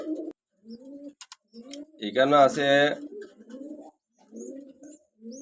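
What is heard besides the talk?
pigeons cooing, a Magpie and a Kagzi breed pair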